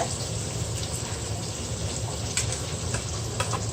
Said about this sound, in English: Just saute it a bit.